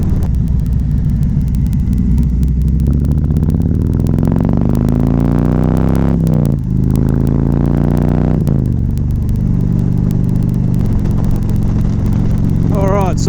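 Close, loud engine rumble from a 2017 Harley-Davidson Street Glide Special cruising on the highway, with a steady low drone and rising and falling revs as the bike accelerates; a voice talks over it.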